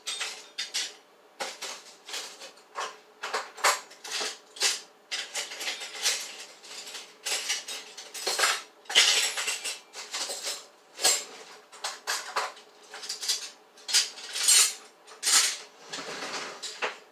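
A knife cuts through a block of cheese on a cutting board, making a long series of close, sharp knocks and taps that come in uneven bursts, with no talking.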